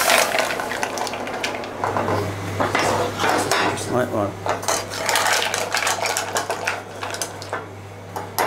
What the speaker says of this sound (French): Hop, les moules commencent à claquer.